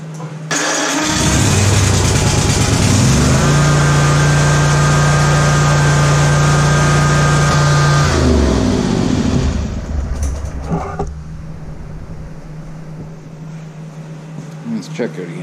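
A Ferris IS1000 mower engine cranks and catches, then runs loudly at a steady idle for several seconds before cutting out, leaving a quieter background hum.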